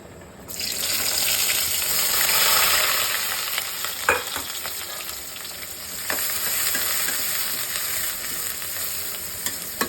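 A tempering for gourd leaf dish fries loudly in hot oil, a dense steady sizzle that swells at the start and carries on with occasional clinks and stirring scrapes, heard alone close by.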